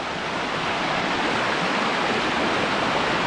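Loud, steady roar of rushing water from Gabur Gabur Falls in Peñablanca, Cagayan, dense and continuous throughout with no voices.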